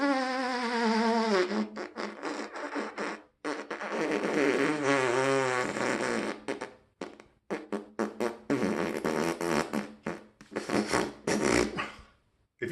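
Brass instrument played inefficiently, with a strained, airy tone: buzzy sustained notes and wavering pitch slides in broken phrases with short gaps, close and fairly loud, no talking.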